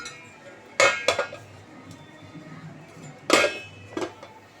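A metal lid clanks onto an appam pan during cooking, with a pair of sharp, ringing knocks, a pause, then another close pair of clanks, and no talking.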